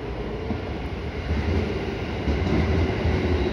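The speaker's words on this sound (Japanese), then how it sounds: "3番線から電車が発車します。" An electric train pulls out from platform 3 at Kanayama station, its steady rumbling hum swelling slightly as it gathers speed. No voices can be heard.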